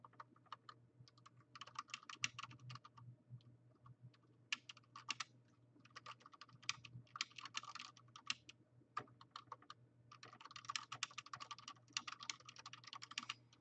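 Rapid bursts of keystrokes on a computer keyboard while entering moves into a chat during an online classical chess game, clattering in uneven runs with short pauses over a steady low hum.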